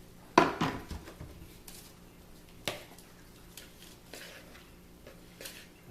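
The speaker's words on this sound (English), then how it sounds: "And I stir that up in there, just like that." A utensil stirs flour in a bowl for biscuits, giving a few sharp knocks against the bowl followed by softer scattered taps and scrapes, close and quiet with no talk.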